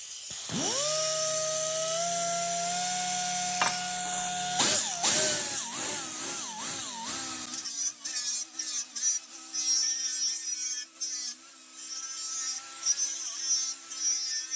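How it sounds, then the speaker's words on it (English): A power tool spins up with a steady whine and grinds burrs off metal to prepare it for welding, starting smoothly then turning into rougher, uneven grinding bursts as it bites the workpiece on a paint rack build, loud and close. "now we're gonna clean these burrs off to get this ready for welding"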